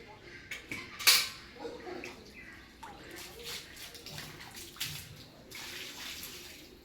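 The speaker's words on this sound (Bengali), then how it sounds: "এই দেখুন গাছে জল দিচ্ছে" Water splashes and trickles onto garden plants, a tap-fed stream pattering unevenly with a sharp clatter near the start, while a voice talks nearby.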